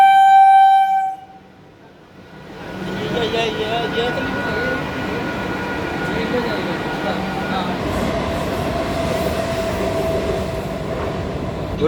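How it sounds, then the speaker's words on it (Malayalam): A train speeds past an Indian railway station: a brief horn tone opens, then after a short lull a steady, loud rumbling roar of wheels and carriages fills the rest, close and sustained. "ഒരു ട്രെയിൻ ചീറിപ്പാഞ്ഞ് വരുന്നുണ്ട്."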